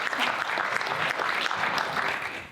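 An audience at a health-focused panel event breaks into a short burst of clapping, a dense even patter of many hands that fades slightly at the end.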